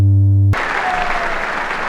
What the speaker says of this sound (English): Like the applause.